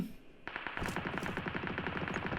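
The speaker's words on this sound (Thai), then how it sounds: "มีคนยิงกันครับ" Rapid automatic gunfire in PUBG Mobile rattles in a steady, dense burst of shots that runs without pause, loud and fairly close.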